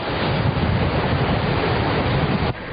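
Strong typhoon wind battering the microphone in a loud, continuous roar that surges steadily throughout, then cuts off abruptly near the end.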